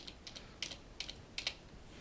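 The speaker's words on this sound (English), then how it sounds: "I could keep on hitting enter until I get to the second page" Computer keyboard with the Enter key struck repeatedly, a handful of sharp, close clicks in uneven pairs over quiet room tone.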